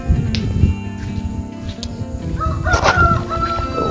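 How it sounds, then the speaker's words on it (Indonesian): A rooster crows once near the middle of the clip, a rising then sustained call over steady background noise and low rumble, fairly close and clear, with no speech. "Tuh, udah berkokok ya teman-teman."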